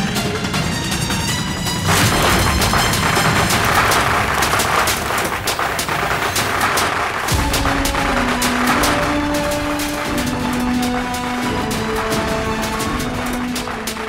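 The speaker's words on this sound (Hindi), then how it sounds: "अरे घर के अंदर पटाखे कौन जला रहा भाई?" Firecrackers go off inside a house as a loud, dense barrage of sharp cracks and booms that continues throughout, while a melodic tone sounds steadily underneath.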